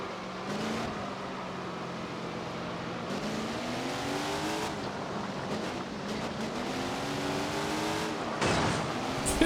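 A sprint race car's engine drones steadily in a racing game, with rising and falling tones as cars pass close by; no talking, and a sharper burst near the end.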